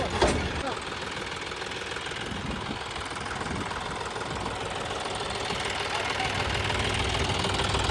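A tractor engine runs steadily during a corn harvest, with a loud, close, continuous low rumble and knocking throb that hardly changes across the clip.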